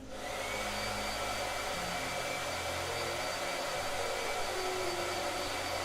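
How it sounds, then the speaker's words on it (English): A blow dryer switches on and runs with a steady, loud whirring hiss that continues alone without any talk. "Blow dryer."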